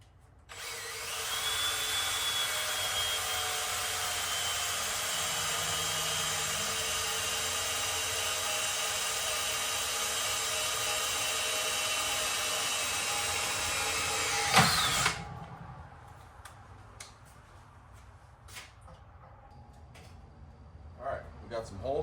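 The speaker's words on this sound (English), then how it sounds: "So let's get to drilling holes." A power drill bores holes in a new trailer, one long steady high whine lasting about fifteen seconds before stopping abruptly, followed by quieter handling noises.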